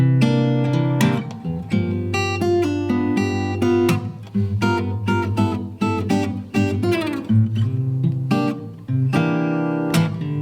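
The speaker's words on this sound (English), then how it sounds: "that's the sound of a 9th chord. You hear it in bluesy stuff all the time" Guitar strummed and picked through bluesy dominant ninth chord voicings on D, with rhythmic bursts of attack and ringing harmonics, played close and steadily with no talking.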